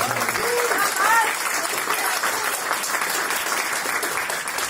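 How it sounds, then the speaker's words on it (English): Audience applause at a US Senate campaign community conversation in Macomb County, a steady wash of clapping from a modest indoor crowd, with a brief voice or whistle-like call near the start. "By the way, give a round of applause for Mike."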